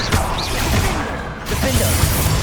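An Expelliarmus spell is cast in the video game Hogwarts Legacy, a dense, loud burst of magical crackle and impact noise that runs throughout amid busy game effects.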